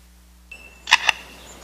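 A lyrebird imitates a camera shutter: after a brief tonal beep, two sharp mechanical clicks in quick succession, crisp and close, over near silence.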